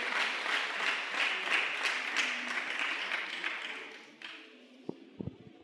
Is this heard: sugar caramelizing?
no